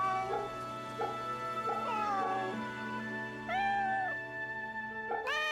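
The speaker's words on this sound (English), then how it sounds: "猫だな" A cat meows repeatedly in the video game Fate/Samurai Remnant, several short mews and a few longer drawn cries spread over a few seconds against a steady low background hum.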